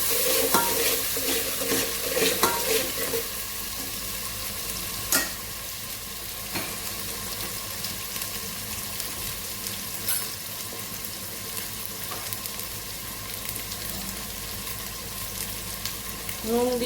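Chopped tomato with green chillies sautéing in a pan for khichuri, a continuous sizzle with spoon stirring and scraping scrapes recurring close by, no voices.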